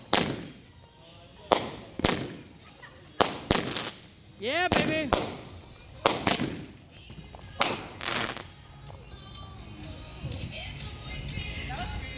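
Hootie TNT firework cake firing about ten sharp, loud explosive shots in irregular bursts, with a whistling rising tail in the middle, followed by crackling fading into background noise; a person speaks briefly.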